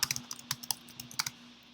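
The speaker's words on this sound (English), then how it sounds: "You can type whatever you want." Computer keyboard being typed on, about a dozen quick, light clicking keystrokes in an uneven rhythm, close but faint, then a brief quiet at the end.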